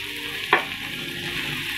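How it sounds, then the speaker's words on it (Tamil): Cooked basmati rice being mixed into a hot pan, a steady frying sizzle with one short scrape of the spoon partway through, close and fairly loud with no talking. "ரைஸை கொஞ்சமாக ஆட் பண்ணி மிக்ஸ் பண்ணிக்கலாங்க."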